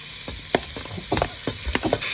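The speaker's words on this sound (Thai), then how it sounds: "ตอนนี้เราใส่ เนื้อลงไปผัดกับเครื่องลาบแล้วนะคะ" Beef stir-fried in a pan with laab spice paste for a Thai beef om curry: a steady hiss with a handful of sharp scraping and sizzling bursts from stirring, close and alone.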